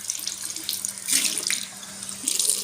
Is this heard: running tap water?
yes